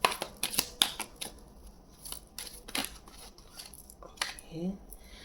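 Tarot cards being shuffled and drawn by hand: close, scattered riffles and snaps of card stock in uneven bursts, with a quiet voice faintly in the background.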